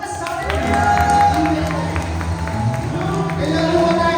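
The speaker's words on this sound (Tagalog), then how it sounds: "Pwede ba tayo pumalakpak sa Diyos?" A church congregation claps hands together in praise during a worship service, a sustained burst of crowd clapping mixed with voices and music underneath.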